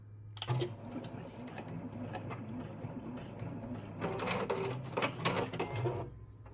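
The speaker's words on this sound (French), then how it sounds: "je vais simplement cliquer une fois pour lui donner l'information que j'ai terminée et qu'elle fasse son point d'arrêt final et couper son fil" Juki HZL-DX7 sewing machine tying off its final stitch and trimming the thread, a close mechanical whirring with rapid ticking that swells into a brief busier burst of clicks near the end before stopping.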